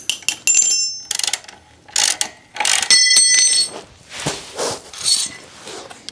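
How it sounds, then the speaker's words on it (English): Brake adapter bracket being removed from a KTM motorcycle: bursts of ratcheting clicks and metallic rattles come in short uneven runs with brief pauses between, close and fairly loud, with no talk. "All right, so now I'm going to remove this adapter bracket."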